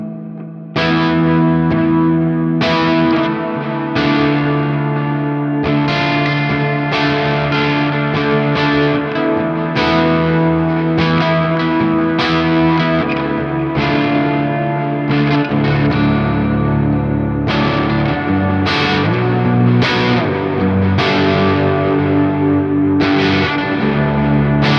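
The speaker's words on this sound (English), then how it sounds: "I'm going to throw this on the humbucker so we can actually get a little more input on this guitar, and it'll get a little breakup as the preset states" Electric guitar on the humbucker pickup through the Neural DSP Archetype Nolly ambient breakup preset, played continuously for about 25 seconds: lightly driven chords with chorus shimmer and echo tails, loud and steady with no talking.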